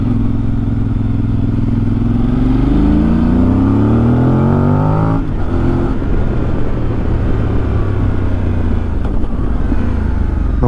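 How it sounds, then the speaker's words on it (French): A Voge 800 DSX Rally motorcycle accelerates hard, its engine note climbing steadily in pitch with a loud, close air intake roar, then breaking into a rough, throbbing drone as it keeps pulling. "on entend l'admission qui est juste derrière quand on accélère"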